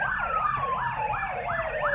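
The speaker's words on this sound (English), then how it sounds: "Don't know if the police are pulling us or not, but nah, it's the ambulance." Ambulance siren on a Melbourne street, its wailing tone sweeping up and down steadily with a falling pitch as it passes, moderately distant over low traffic rumble.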